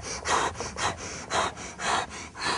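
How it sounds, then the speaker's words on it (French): A person doing push-ups breathes quickly and heavily through the nose and mouth, close up. Five or six strong, rhythmic breath bursts come at about half-second intervals. "Dès que ça sera un peu plus dur, j'accélérerai la respiration."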